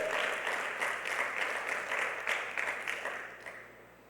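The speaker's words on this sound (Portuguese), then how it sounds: "Vamos dar uma salva de palmas." Church congregation clapping together in a steady, rhythmic round of applause, fairly close and full, tapering off toward the end.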